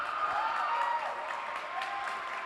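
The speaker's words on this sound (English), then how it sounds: "This crowd is going crazy." Fans at a girls' high school volleyball match roar and clap after a kill, a dense, steady wall of cheering with faint whistle-like shouts rising through it.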